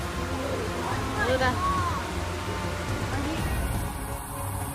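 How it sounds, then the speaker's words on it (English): Heavy rain pours steadily during record flooding in San Diego, a dense close hiss with splashing water, while people talk over it. "It's gonna be raining like this for another hour."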